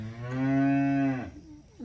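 A cow lows once at a farm plot, a loud, sustained moo that swells and holds before trailing off into quieter rustling background.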